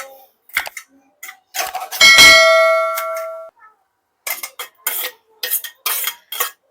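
Chopped beetroot goes into a cooking pot for homemade pav bhaji with a loud metallic clang and ringing tone, then a run of short clinks and scrapes of utensils against the pot.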